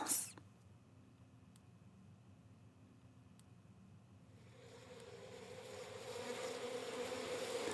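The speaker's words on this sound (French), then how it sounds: "Ah, les abeilles!" Bees buzz in a children's story about a bear hiding from them, a faint hum that swells steadily louder over the last few seconds as if approaching.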